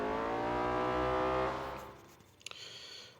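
A McLaren P1 in Need for Speed No Limits roars at full throttle in the Underworld mode, its rising engine note loud and close for about a second and a half, then dropping away to a faint hum with a few sharp clicks.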